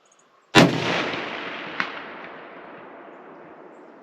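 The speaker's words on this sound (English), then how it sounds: "we got a smack back from the target, so I guess that worked out" A single loud shot from a Tikka T3 Hunter Stainless rifle in .30-06 cracks at an outdoor range, followed about a second later by a faint distant smack of the bullet striking a target at 300, then a long fading echo.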